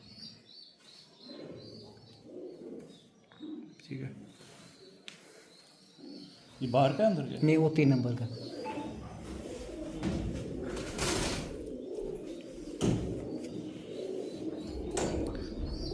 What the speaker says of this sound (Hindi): ये हमारे जो जम्मू की शान है, जो सियालकोटी पैटर्न में कबूतर आते हैं काले मुंह वाले, ये वो कबूतर हैं।